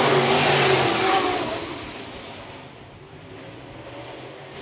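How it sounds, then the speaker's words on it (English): Race cars running single file around the dirt oval at Phillips County Raceway during a Modified main event, a loud broadband engine roar that swells then fades slightly as the pack passes. "Still single file your top 10 cars as they run across Phillips County Raceway"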